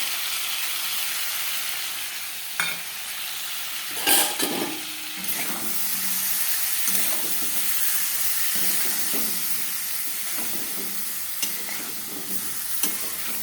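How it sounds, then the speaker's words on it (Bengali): Spices sauté in a pan with tomato, green chillies and peas, giving a steady hissing sizzle. Occasional stirring scrapes sound close by, with no talking. "এখন মশলাটা দিয়ে দেবো এখানে, ভালো করে কষাবো"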